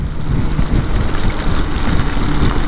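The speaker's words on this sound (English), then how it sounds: "riding in the rain" Steady broadband rush of rain and wind noise mixed with a low engine drone from a BMW K1600 GTL motorcycle riding in the rain, continuous and fairly loud throughout.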